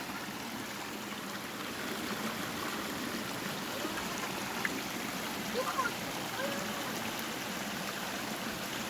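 Steady babbling of a cold, clear stream running over a rocky bed, close and continuous, with a few brief splashy trickles standing out.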